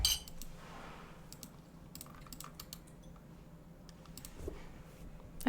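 Quick, uneven keystrokes clatter on a compact computer keyboard, sharp and close, in scattered bursts with brief pauses over a faint background hum.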